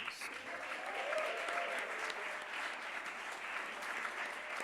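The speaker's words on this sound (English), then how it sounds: "Please give each other a big round of applause" Sustained applause from an audience at the SE100 Impact Pioneer Awards ceremony, a steady dense wash of clapping that fills the room from start to finish, with a faint voice underneath.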